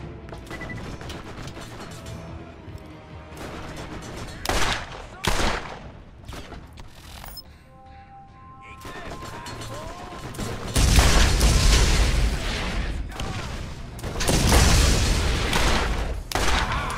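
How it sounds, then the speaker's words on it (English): Gunfire in the video game Borderlands: bursts and booming shots come in waves, growing louder and denser near the end, with a voice talking intermittently over the combat. "Somebody's still shooting at us."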